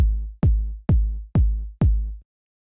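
A soft kick drum in a house-style beat thumps five times at an even pace, its rounded, deep hits lacking a sharp click and decaying smoothly before the next one.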